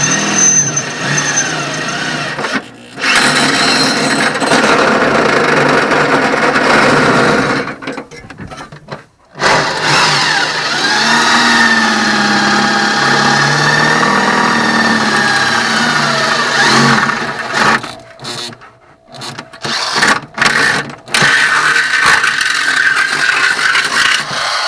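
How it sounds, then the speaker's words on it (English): A power drill fitted with a slow-speed bit bores into metal while mounting a gas tank on a 1950 VW Baja Bug, grinding loudly and close in long runs broken by brief pauses. "This is a slow speed drill bit from Drill Hug."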